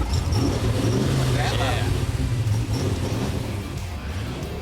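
A modified Chevy C-1500 pickup truck engine rumbles steadily while driving, a low droning hum with road noise, and a voice speaks briefly over it.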